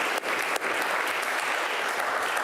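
Studio audience applause at a televised quiz competition, sustained clapping from a crowd, even and full throughout, with no talk over it.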